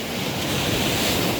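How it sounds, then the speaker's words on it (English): Waves crashing below waterfalls outdoors, a loud continuous roar of surf and churning water with strong wind rumble on the microphone, no voices. "The waves are all crashing."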